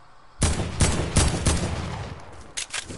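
Close, loud bursts of Fortnite gunfire: several sharp shots in quick succession, then a short gap and a final quick pair of shots, with no talk over them.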